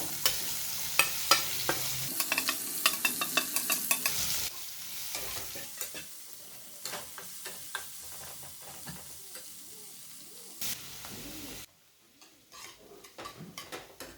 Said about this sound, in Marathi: हिंग लसूण लाल झाला आहे घालूया कांदा